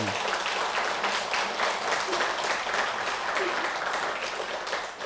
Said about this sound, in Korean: 박수라도 한번 치세요, 그러면.